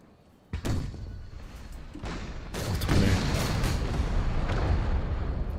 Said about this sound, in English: Cannons ain't doing much there.